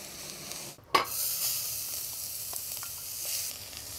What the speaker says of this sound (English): Onions and a bit of garlic in here. Now you simply want to cook the onions until they're just about soft